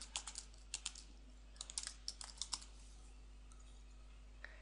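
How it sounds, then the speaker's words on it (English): Keys on a computer keyboard clatter as a name is typed, a quick cluster of crisp clicks in two bursts, close and clear, followed by a single late tap over a faint hum. "Next, I will type in this person's"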